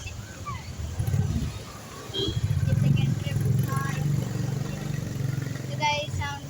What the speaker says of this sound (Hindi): बहुत सारे बाइक्स कार्स हैं